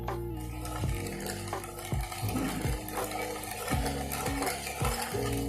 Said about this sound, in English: just make a gentle stir